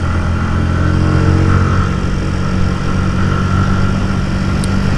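Stock-exhausted Yamaha YZF R125 125cc motorcycle engine idling steadily and close by, a low even drone with no rise or fall throughout.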